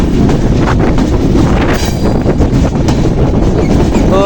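Madhumati Express train on its new rake running toward Hardinge Bridge, giving a loud continuous rumble and rattle of the carriages with heavy wind buffeting the microphone.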